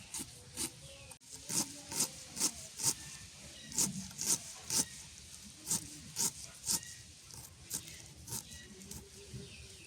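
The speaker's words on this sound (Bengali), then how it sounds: "বটিতে হাতেতে মেশিন বানাছি, হাতেতে কুচি কুচি করে কাটিয়ে নেই ভালো করে" Radish being finely chopped by hand on a boti blade, a steady run of sharp cutting strikes against the blade, fairly close and moderately loud, with a rustle of the vegetable between strokes.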